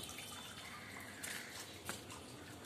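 Water pouring forcefully into a home fish tank, a steady close splashing rush with faint drips, loud and continuous with no talking.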